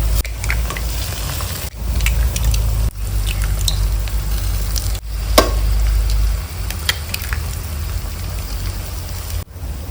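Eggs frying in a pan with ground masala for village-style egg rice, a steady loud sizzle and crackle close up, broken by a few brief scrapes and stirring knocks.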